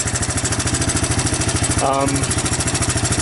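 A 1984 Honda ATC 200ES ATV with an aftermarket carburetor idles steadily in a fast, even putter without revving up; a brief voice cuts in near the middle.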